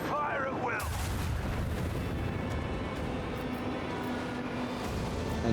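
Ship lance weapons fire in the Rogue Trader video game, with a heavy boom at the start that gives way to a long rumbling roar underneath, with a voice briefly at the very beginning.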